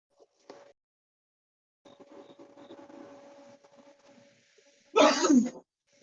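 A loud, abrupt sneeze bursts out near the end, after a stretch of quiet background chatter and faint voices.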